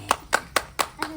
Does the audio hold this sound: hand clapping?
yes